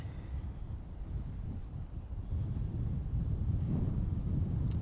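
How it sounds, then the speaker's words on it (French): Strong gusts buffet a microphone worn under a t-shirt outdoors, producing heavy low-pitched rumbling and flapping that builds louder toward the end, with no speech. "Ouais, là ça souffle très très fort."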